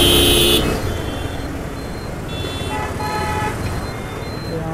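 Heavy Saturday traffic jam on a road, with the rumble of cars and trucks and several short car horn toots sounding close and farther off.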